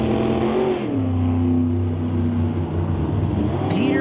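Drag racing cars, a 1957 Corvette and a Mustang, rumble loudly at an NHRA drag strip, with steady engine tones shifting pitch as they rev near the line.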